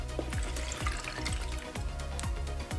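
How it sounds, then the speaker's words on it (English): 480 grams of egg whites poured steadily into a food processor, a close, loud liquid stream broken by repeated glugging gurgles. "480 grams of egg whites going in. We're gonna pour it nice and easy"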